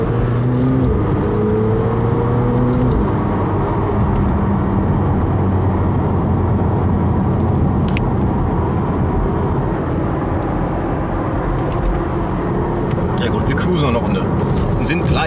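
Engine of a McLaren car in the racing game Forza Horizon 4, a steady loud drone with rising tonal sweeps early on, running continuously under people talking.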